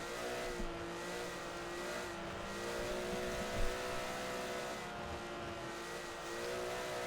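A race car engine during Le Mans qualifying in the FIA WEC, a steady droning whine held at moderate distance, with one brief bump partway through as it works toward the final corners, and no voices.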